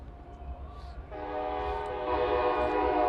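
A train horn sounds steadily in the distance near Mercedes-Benz Stadium, growing slightly louder and fuller as the train rumbles past.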